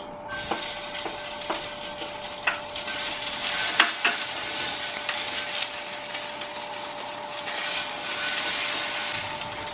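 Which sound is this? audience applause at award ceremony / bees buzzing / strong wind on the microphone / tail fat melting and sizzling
tail fat melting and sizzling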